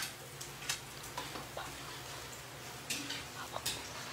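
Garlic and onions fry in a pan with a soft, steady sizzle, a few utensil taps and stirring scrapes, quiet and close.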